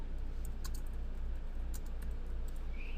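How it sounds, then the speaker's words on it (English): A short burst of keystrokes on a computer keyboard enters a file name, a few crisp irregular clicks over a constant low electrical hum, close and alone without speech. "type in a name for your file"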